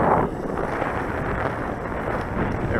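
Gusty wind buffets the microphone at an RC flying field where an E-Flite Apprentice S 15e trainer plane is flown, a loud, steady roar with a stronger burst at the start and no talking.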